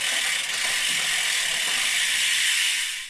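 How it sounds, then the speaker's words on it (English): Wheeltop EDS-TX wireless electronic groupset shifting through bicycle gears, a steady close mechanical whir with ratcheting clicks running continuously and loudly throughout, no talking. "So we are now in the first gear, so the highest gear, second, third."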